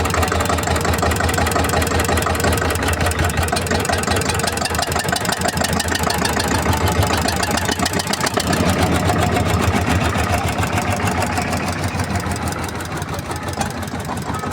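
A loud engine runs steadily throughout, a dense rumbling idle with fast regular pulsing, close by and continuous with no talk.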